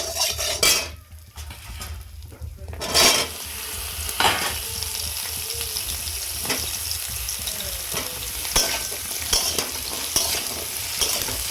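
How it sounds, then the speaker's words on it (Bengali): Vegetables fry in oil in a pan, with a continuous sizzle under scraping, stirring and clinks of a utensil against metal, and louder bursts when the food is moved. "ওই তেলটাতেই আমি আর একটু তেল দেবো। সবজিগুলো ভেজে নেব।"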